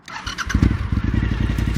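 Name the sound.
2003 Suzuki SV1000 V-twin motorcycle starting up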